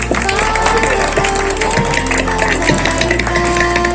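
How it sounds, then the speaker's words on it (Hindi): At an inauguration and prize distribution ceremony, an audience claps steadily for an honoured student, the applause blended with held musical tones and a moderately loud, busy room. "ताली बजाइए"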